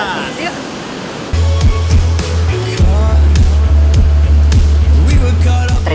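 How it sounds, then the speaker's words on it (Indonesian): Steady rushing water of the Telunjuk Rawang waterfall in Banyuwangi, Indonesia, roars continuously, loud and close, with a deep low rumble throughout. "kita nikmati suasana air terjun Telunjuk Rawang itu"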